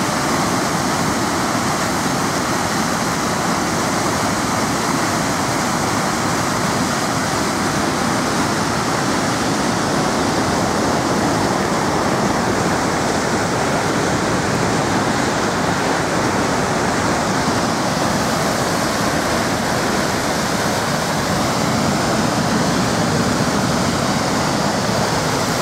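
Heavy water rushing over 4 Mile Dam on the Thunder Bay River in Michigan, a loud, close, unbroken roar of spray and churning flow that holds steady throughout.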